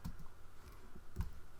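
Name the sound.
pressing a key on a computer keyboard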